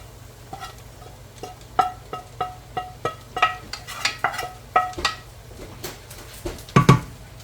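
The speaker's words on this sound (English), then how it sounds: "I'm just going to get this mixed in with these potatoes" A utensil stirring sausage into browning potatoes in a pan for lumberjack hash, with a run of crisp scraping clicks in an uneven rhythm over a soft sizzle, close and clear, ending in a louder clatter.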